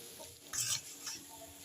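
Potatoes frying with spices in a pan, cooked covered for fish curry: a soft, steady sizzle with a brief louder stirring scrape in the middle, close by, with no voices.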